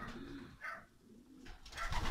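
A racing pigeon, a young bird home from a race, gives soft low cooing in a few short bursts, close by and fairly quiet, with no talk.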